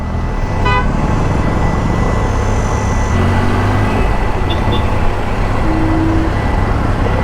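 Busy road traffic around a Triumph Tiger motorcycle, with a steady engine and tyre drone, a short beeping horn burst early on and a couple of longer car horn toots later, close and loud.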